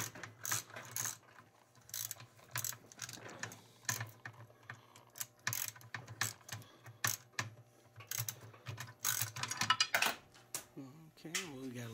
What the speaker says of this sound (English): these Craftsman ones I have are like kind of ratcheting, where they'll spin on the back spin